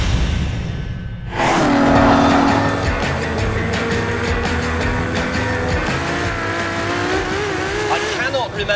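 A 950-horsepower Ferrari supercar roars past after a quiet start, its engine loud and sustained with rising and falling pitch and some tire squeal, while voices cry out over it.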